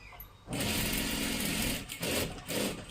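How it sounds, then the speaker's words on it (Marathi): A sewing machine runs in steady bursts while stitching a double seam along a salwar kurti sleeve, its close, continuous motor whir broken by brief pauses near the end. "आता इथे आपल्याला परत एकदा डबल शिलाई मारून घ्यायची आहे"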